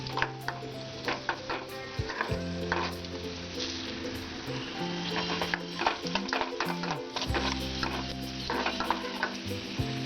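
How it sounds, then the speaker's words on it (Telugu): Flattened rice fries in a pan over a medium flame for a sweet payasam, making a constant sizzle with frequent stirring scrapes and metallic taps that come close and fairly loud. "మనం మీడియం ఫ్లేమ్లోనే ఫ్రై చేసుకోవాలండి."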